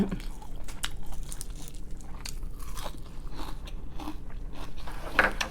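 Someone bites into and chews young raw eggplant at a home meal with fermented pickled vegetables, close crisp crunches and wet chewing repeating irregularly, with no talk over them.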